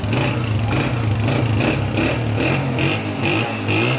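A used Honda 125 motorcycle engine idles steadily and close by, with a low, even thrum and a rhythmic pulsing that swells slightly every half second or so.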